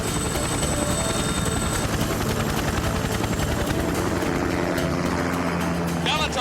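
Helicopter rotor beating loud and continuous overhead in an animated action scene, a heavy thudding roar that fills the whole stretch, with mechanical whines and other effects layered on top.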